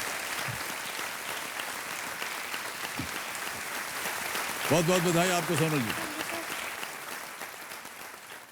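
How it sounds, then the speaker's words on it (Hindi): Studio audience applause rolls on at Kaun Banega Crorepati for contestant Sonal, a steady clapping wash under a male host's voice speaking over it midway, fading slightly toward the end. "तालियां बजती रहें इनके लिए"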